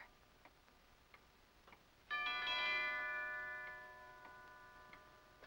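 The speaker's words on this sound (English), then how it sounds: "He just rang the bell again and then stood there." A doorbell chimes once in a house, its bright ringing tone swelling suddenly and then fading slowly over a few seconds against faint ticking in a quiet room.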